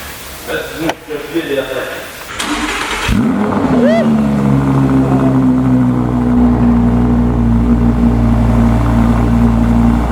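Lamborghini Huracan supercar starting up: a few seconds of indoor commotion and voices, then the starter catches and the engine flares before settling into a loud, steady, close-up rumble that fills the rest.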